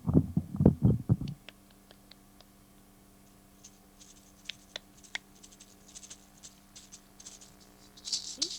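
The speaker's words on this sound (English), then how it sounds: "He's got the castanets" Castanets clack in a quick burst of sharp rattling clicks to start, used as sound effects for a puppet show, followed by faint scattered taps and light rustle in a quiet room.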